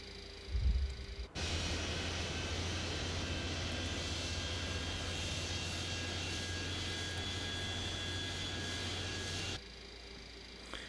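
Boeing 727-100 jet engine starting in a flight simulator: a sudden broad rushing roar with a steady low hum and a thin whine that holds loud and even for several seconds, then cuts back.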